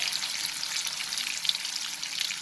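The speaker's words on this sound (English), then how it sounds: "Fry these papayas over medium flame" Raw papaya pieces fry in hot oil over a medium flame for a curry, giving a steady, close hiss of sizzling with soft crackles throughout and no voices.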